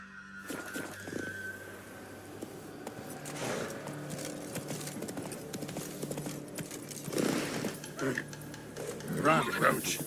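Roach, a horse in The Witcher 3, clip-clops along in steady rhythmic hoofbeats that grow louder toward the end, with someone speaking over them.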